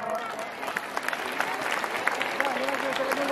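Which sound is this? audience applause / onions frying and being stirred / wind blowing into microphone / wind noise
audience applause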